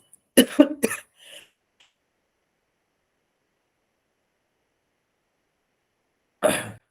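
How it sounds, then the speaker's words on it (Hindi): A few sharp coughs close to the microphone, then a long silence and one more cough near the end. "बार बार खांसी हो रही है"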